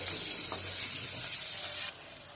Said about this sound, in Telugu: ఆయిల్ వేడెక్కాక ఉల్లిపాయ వేసి బాగా వేగనివ్వాలి.